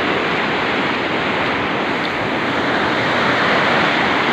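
Swollen river water pours steadily over the dam at Kailashpuri, a dense, unbroken rushing roar that stays loud and close the whole time with no voices.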